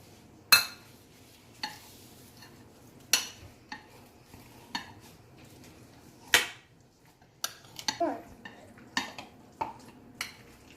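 A spoon stirs and scrapes sandwich filling with cheese chili spread in a bowl, giving sharp irregular clinks and knocks against the dish, close and fairly quiet between strokes.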